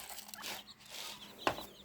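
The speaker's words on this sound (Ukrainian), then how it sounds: "Вон та курка ходить, бачите, там в кущах далі" A small bantam hen clucks among bushes in a farmyard, a few soft, close clucks with a brief sharper call near the end, no voices over it.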